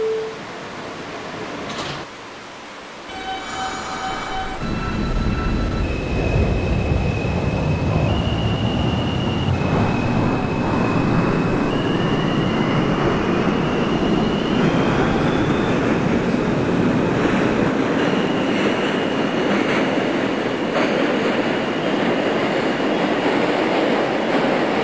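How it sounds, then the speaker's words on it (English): An R160 subway train on an A express run to Euclid Avenue in the OpenBVE train simulator game, starting from a few chimes and clicks, then a steady loud rolling rumble with rising and stepping whining motor tones that hold throughout. "This is a Brooklyn-bound A express train."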